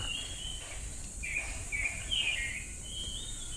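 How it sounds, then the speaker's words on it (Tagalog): Thin, high bird chirps and whistles drift in intermittently over a steady insect-like hiss, fairly faint and distant, at an eco park, with no talking. "Pero ang ganda ng mga huni ng ibon."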